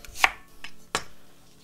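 A knife slices through radish for dongchimi, radish water kimchi, on a cutting board, making two crisp close chopping strikes with a faint tap between them and no voices.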